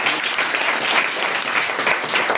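A church congregation claps loudly and continuously, a dense, steady wash of applause filling the space.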